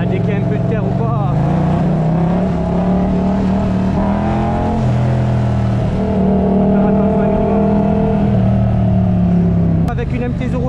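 A Kawasaki motorcycle engine accelerating on a road trip through Morocco, a loud close steady drone with shifting pitch that dips briefly near the end; a voice talks underneath.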